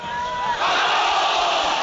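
A big football crowd at Wrexham against Notts County roars as a handball is given. It is a loud, continuous, swelling surge of shouting that lifts sharply partway through.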